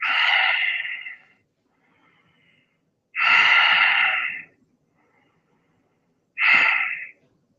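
Three slow, deep breaths during a guided yoga-style breathing exercise, each a loud, close inhale or exhale lasting about a second, separated by quiet pauses, with no talking.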